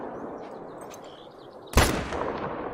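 A single loud rifle shot cracks close by over a steady hiss and trails off in a rumbling echo, part of a modern rifle in The Hunting Lodge hunting game.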